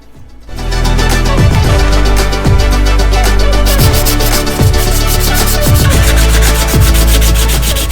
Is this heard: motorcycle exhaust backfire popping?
no